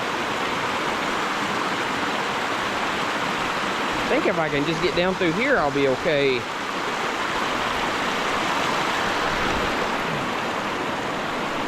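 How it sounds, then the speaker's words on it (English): Steady rushing water of a stream at a hiking trail water crossing on the Cucumber Gap to Little River Trail loop, a continuous broad hiss that stays close and loud while someone briefly speaks over it midway. "this is a pretty significant water crossing"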